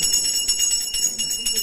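Small bells ring beside a Diwali rangoli, giving bright, sustained metallic tones with a quick pulsing rhythm of repeated strikes, close and fairly loud.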